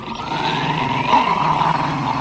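An anime dog growls angrily in a low, sustained rumbling snarl that stays loud and close throughout, with no speech over it.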